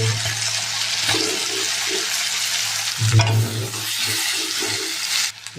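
Shrimp and green chili fry in hot oil with ginger and garlic, a steady broadband sizzle running the whole time, broken by a few louder stirring scrapes and clanks near the pan.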